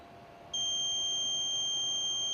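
A card reader at a gas plant entry sounds its access-denied signal, a sustained, shrill electronic tone that starts abruptly after a short hush and holds steady and loud to the end.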